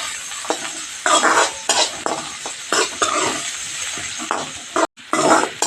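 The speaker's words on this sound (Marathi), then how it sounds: "इकडे मोठा कांदा घेतलेला आहे, 2 बारीक चिरून घेतलेला आहे. तेलामध्ये चांगलं भाजून घ्यायचं आहे." Finely chopped onions fry in hot oil on a gas stove, with a steady sizzle under repeated close scraping strokes of a spatula against the pan and a brief pause near the end.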